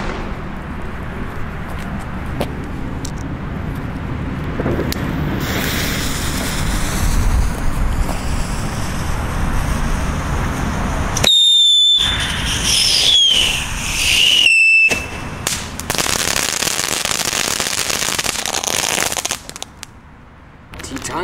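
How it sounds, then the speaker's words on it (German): A three-stage whistling fountain firework at a New Year's Eve display gives rising whistle tones and a sustained crackling, hissing spray over a broad noisy bed, with short quiet gaps between stages. "Das ist eine 3-Stufen-Pfeiffontäne."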